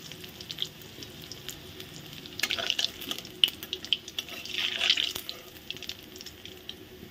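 Pieces of rohu fish frying in oil in a pan, crackling and spitting in bursts over a steady hiss, with occasional clinks of a utensil and a busier stretch toward the end, no talk.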